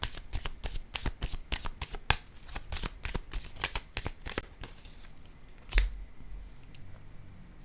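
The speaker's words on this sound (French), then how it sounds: "Je vais déposer une autre carte ici," Tarot cards being shuffled and laid out, a fast series of crisp riffling snaps and flicks, close and fairly quiet, ending with a single card slapped down on the table.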